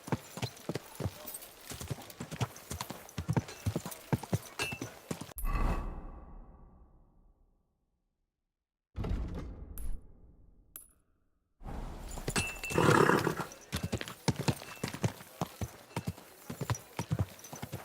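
Steady clip-clop of horse hooves on a hard surface in the video game Kingdom Come: Deliverance II, brisk and close, breaking off into a pause with a brief whoosh before the hoofbeats resume.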